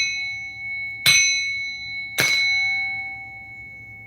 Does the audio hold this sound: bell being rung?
yes